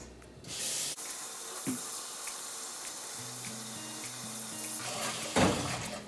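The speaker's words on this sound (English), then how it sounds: "fill it up with hot water until it covers the entire thing" Hot water runs and splashes steadily into a bowl of potatoes, a continuous rushing pour with a few clinks and knocks along the way.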